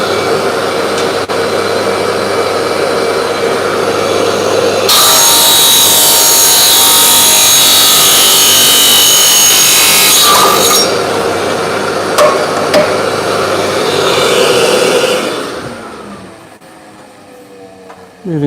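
A saw cuts a golf club shaft to length in a workshop, making a loud sustained grinding rasp that grows harsher midway, then tapers off and stops near the end.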